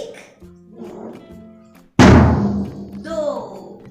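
A drum is struck once with a loud, sharp thump midway through, during a group session with hearing-impaired children. Quieter voices are heard before and after the hit.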